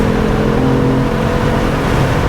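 A BMW F80 M3 held at full throttle, its engine a loud, dense, continuous roar from close range, steady with no gaps and no voices.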